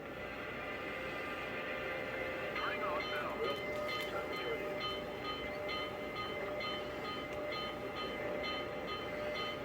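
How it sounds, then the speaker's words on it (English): The bell of a Lionel Legacy Pennsylvania Railroad B6 0-6-0 switcher toy train rings repeatedly in a steady, rapid pattern over engine rumble and background noise, continuing without pause. "And the bell will keep going until I tell it to turn it off."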